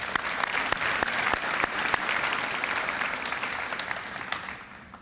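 An audience at a high school graduation ceremony applauds for the chorus and band members, a sustained wash of clapping with sharp individual claps standing out, fading slightly toward the end.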